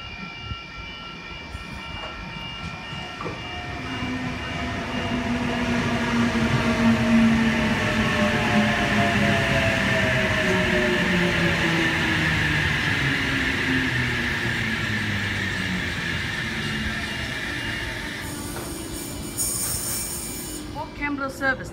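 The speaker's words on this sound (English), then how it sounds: "We have an Oscar arriving onto platform 2, Port Kembla service." A Sydney Trains Oscar set on a Port Kembla service pulls into Woonona station, its motors whining up and down in pitch as it arrives close by and stands, with brake hiss and noise at the end.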